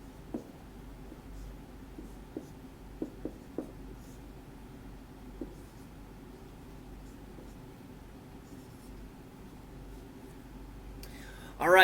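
Writing for a math lesson makes faint scratching strokes with a few sharp taps scattered through the first half, quiet and close against low room hum, with no talk until a louder noise at the very end.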